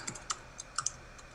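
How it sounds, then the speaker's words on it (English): Someone types on a computer keyboard, a short run of separate, quiet, crisp key clicks spaced unevenly over a little more than a second, close to the microphone with no talking. "Kimberly Crenshaw, I'm gonna type in intersections."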